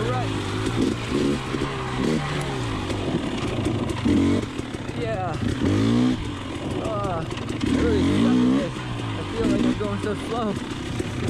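A 2020 KTM 300xc TPI enduro motorcycle's two-stroke engine revs in repeated sharp bursts through several throttle blips, rising and falling in pitch, mixed with speech.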